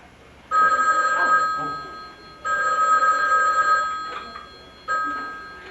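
A telephone rings in clear bursts, three rings separated by short pauses, loud and close with faint background noise between them.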